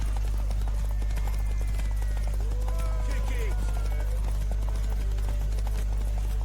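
Horse hooves clip-clopping in The Witcher 3 game, a steady rhythmic trot under game music and a constant low hum, with a character's voice speaking over it.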